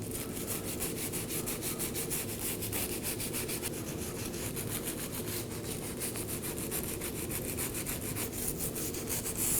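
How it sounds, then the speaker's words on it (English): A wire brush scrubs the face of a rear steering knuckle on a 2018-2024 Chevrolet Equinox during wheel bearing and hub replacement, giving a continuous, close, rhythmic scraping and rasping with no pauses or voices. "Now I'll be cleaning the face of the knuckle with a wire brush."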